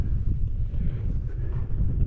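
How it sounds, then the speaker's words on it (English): Wind gusting at a wild campsite in breezy open grassland, a steady low roar and buffeting against the microphone throughout, with no speech. "It is quite breezy."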